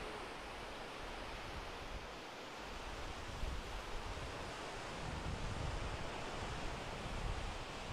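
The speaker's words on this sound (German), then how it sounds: "Man hat halt einen sehr schönen Wellenrausch." Sea waves roll onto the beach at Side-Kumköy, a soft, continuous surf wash that swells slightly midway, heard alone at a low level.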